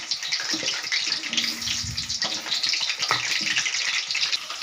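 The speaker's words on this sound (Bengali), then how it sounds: "সর্ষের তেল দিয়ে দেব আলুটাকে ভাজার জন্য। দেখুন, তেল গরম হয়ে গিয়েছে, এবারে আলুগুলো ভেজে নেব।" Potato pieces sizzle in hot mustard oil in a pan, a steady, fairly loud hissing crackle that runs throughout with no one speaking.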